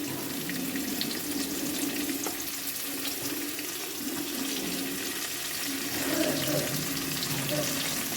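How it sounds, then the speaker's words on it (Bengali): Sliced onions frying in hot oil with bay leaf and cardamom for a Bengali tiger prawn curry, giving a steady, fairly loud broadband sizzle that swells slightly toward the end, with no talking. "এরপরে আমি পেঁয়াজ দিয়ে দিচ্ছি"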